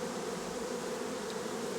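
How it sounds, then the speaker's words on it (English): Honey bees fill a crowded hive with a steady, even drone that holds at one level throughout, a dense low hum with no talk over it. "Hive is full of bees."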